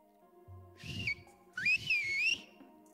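A person whistles nearby in two short rising and warbling phrases, clear and fairly loud, over a quiet background with a faint low hum.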